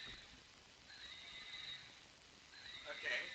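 A fake toy horse gives a thin, faint whinny, drawn-out wavering neighs over a low hiss, with a brief louder rise at the end.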